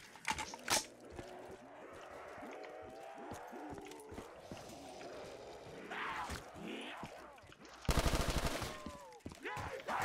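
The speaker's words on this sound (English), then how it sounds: "These guns are so loud" Call of Duty: Black Ops 3 zombies gunfire crackles faintly behind a busy mix of tonal game sounds, then a loud, dense burst of shots hits near the end.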